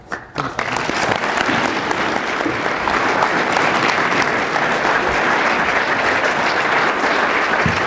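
Sustained, loud applause from a lecture audience welcoming Dr. Sanjayan, a dense steady wash of clapping that begins abruptly and continues evenly throughout.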